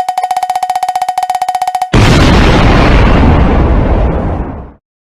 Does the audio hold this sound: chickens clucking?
no